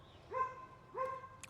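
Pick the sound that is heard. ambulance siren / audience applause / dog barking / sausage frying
dog barking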